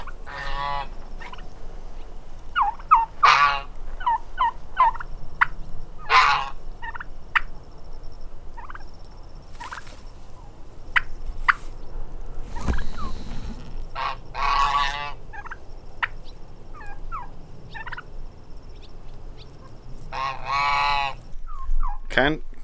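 Royal Palm heritage turkeys out grazing give repeated honking, gobbling calls, some near and loud, others fainter, spread irregularly across a quiet outdoor background.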